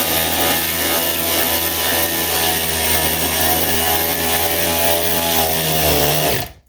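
A DeWalt 12V cordless ratchet spins a nut with a loud, steady, close motor whine and grinding buzz that runs continuously before stopping abruptly.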